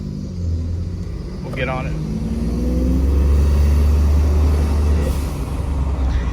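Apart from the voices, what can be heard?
2020 Ford F-150 EcoBoost engine running without turbo silencers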